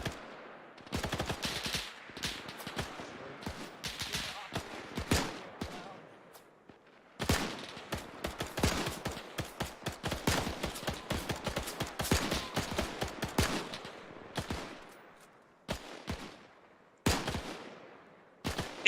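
Machine gun fire in the Arma 3 video game, loud repeated bursts of automatic fire with sharp gaps, some long sustained strings and shorter volleys, mixed with scattered single shots throughout.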